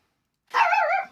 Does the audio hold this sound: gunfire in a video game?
no